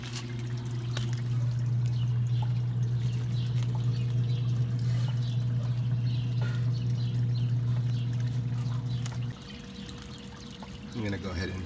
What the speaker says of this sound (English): all that dirty water will start filtering in here